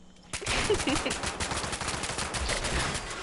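Rapid, continuous gunfire from a weapon in Fallout 76 rattles close and loud, starting abruptly after a brief quiet and continuing as a dense automatic burst to the end, with a voice briefly audible underneath.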